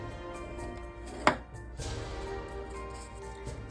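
Paper scored lengthwise on a scoreboard for a craft treat pouch, a single sharp tap followed by a short soft scraping stroke, close and quiet over a low background hum.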